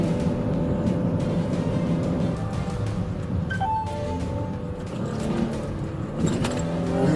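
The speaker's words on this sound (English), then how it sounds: "the young driver accelerated and fled through city streets" A car accelerates hard during a police pursuit through city streets, its engine drone steady and loud throughout with a brief rise in pitch midway, no talk over it.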